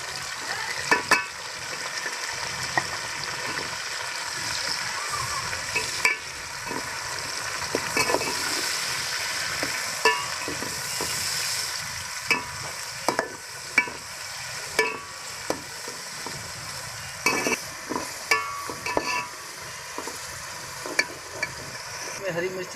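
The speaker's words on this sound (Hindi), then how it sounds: "अब इसमें टमाटर डालेंगे कटे हुए बारीक से।" Chopped tomatoes tumbled into browned onions with garlic in a hot pan, giving a steady sizzle with frequent stirring scrapes and clicks throughout, close and moderately loud, no talking.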